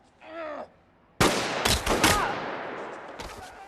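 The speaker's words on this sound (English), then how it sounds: "the suspects are shooting at each other" A burst of gunfire as suspects shoot at each other in a heist-film shootout, several sharp close shots in quick succession after a brief groan, then a lingering echoing tail.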